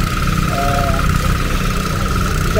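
Engine of an FTL620 mini plough (bajak) machine working a hard field, a steady, loud mid-pitched idle drone with continuous vibration and a faint whine partway through.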